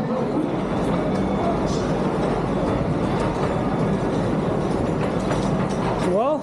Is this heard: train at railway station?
yes